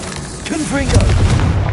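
A Confringo blasting curse detonates in Hogwarts Legacy, a close booming explosion with a rumbling tail, heard over game noise while a voice speaks.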